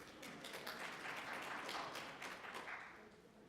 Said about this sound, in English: Go on, clap yourselves. Give yourselves a round of applause.